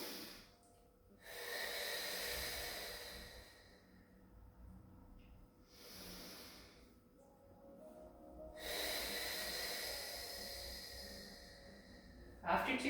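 Slow, deep breaths during a held hip stretch, with long airy inhales and exhales rising and falling in a steady rhythm, close to the mic and without talk.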